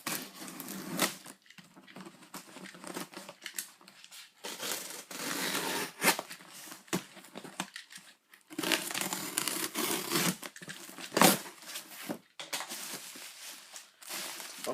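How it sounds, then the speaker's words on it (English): A knife slicing and tearing through the tape and flaps of a cardboard shipping box, heard as a series of scratchy, crackling bursts with short pauses between them, close and moderately loud with no talking. "It's a little bit impossible, but let's just cut the box."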